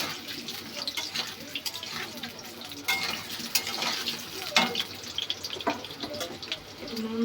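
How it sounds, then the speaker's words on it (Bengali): Potatoes fry in a home kitchen pan, a continuous close sizzle with scraping stirs and occasional clinks of the utensil, some watery spattering mixed in. "আলুটাকে একটু ভেজে নিই।"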